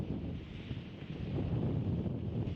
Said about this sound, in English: Oh, that is windy. Very breezy coming off the land now.